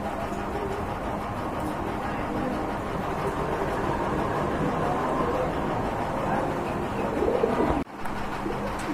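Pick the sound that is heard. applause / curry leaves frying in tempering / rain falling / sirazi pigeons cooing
sirazi pigeons cooing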